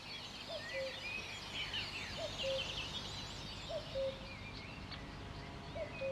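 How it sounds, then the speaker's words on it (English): Birdsong at dawn on a farm in Asturias, northern Spain, with many overlapping chirps and whistles and a repeated short call every second or so, fairly faint over a steady background hiss. "So that is a dawn chorus here on the farm in Asturias in northern Spain."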